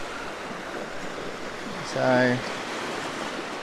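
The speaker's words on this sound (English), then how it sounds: "Lots of little waves around." Small ocean waves wash steadily over rocks as a constant hiss of surf, with a brief surge in the middle and a single spoken word over it.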